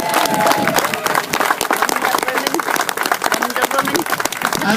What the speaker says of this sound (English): Can we give Lynn a big round of applause?